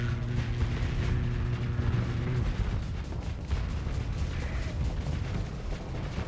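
Gas cannon fire in the space combat game Starsector comes as dense, overlapping booming blasts and rumbling impacts, loud and continuous, with a steady droning tone fading partway through.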